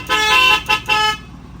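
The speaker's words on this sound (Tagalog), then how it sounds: "Horn module." A car horn fitted with an aftermarket horn module blares close by: one long honk followed by two short toots in quick succession.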